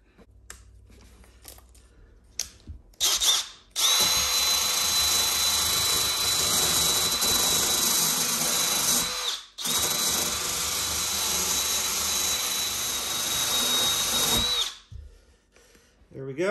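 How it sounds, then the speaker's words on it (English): A flap sander grinds down a metal edge in a loud, high-pitched whine that runs steadily for several seconds, cuts out briefly, then resumes before stopping, with quieter handling noise at either end. "What I will do real quick is sand down this edge a little. So let's get the flap sander"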